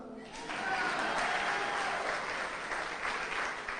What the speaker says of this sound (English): you could clap.